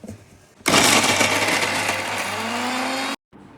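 Kitchen mixer grinder blending tomato, coriander, tamarind, chilli powder and turmeric with water into a paste: a loud whirring motor starts abruptly, runs steadily for about two and a half seconds, then cuts off.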